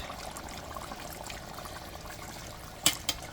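A small amount of water is poured into a pot of Jamaican curry goat, a soft continuous trickle followed by two brief, sharper splashes near the end.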